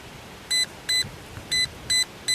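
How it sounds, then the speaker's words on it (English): A Dromida RC monster truck's electronic speed control gives five short, bright electronic beeps in an even rhythm, close and clear over a quiet background hiss. "it's going to beep and tell me what the setting is"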